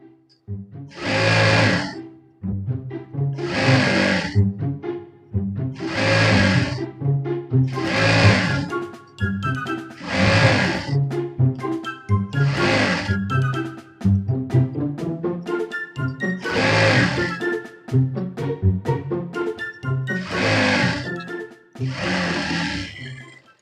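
A sewing machine double-stitching a heavy silk saree being made into a long gown, running in about ten loud bursts of a few seconds each with brief pauses between, no voices.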